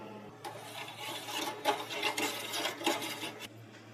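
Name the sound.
mixing strawberry-flavoured cherry powder into liquid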